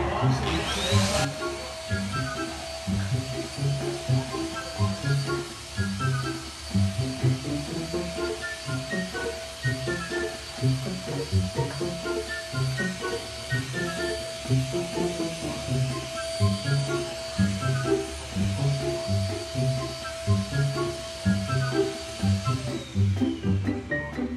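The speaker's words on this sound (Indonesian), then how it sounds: "saya mau vakum dulu ini yang besar ya" A vacuum cleaner runs steadily and fairly close for the whole stretch in a home, its whine holding at an even pitch while people talk over it throughout.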